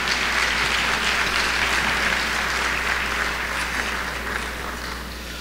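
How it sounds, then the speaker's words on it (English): An audience at a Jewish Educational Center dinner applauds the school faculty and staff, a dense sustained round of clapping from many hands that stays full throughout and eases slightly toward the end. "please stand so we can applaud you for all the hard work that you do"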